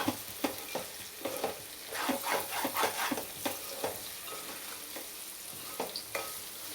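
Potato and carrot fry stirred in a pan, with repeated scraping strokes of a spoon over a steady close sizzle, alone with no talk.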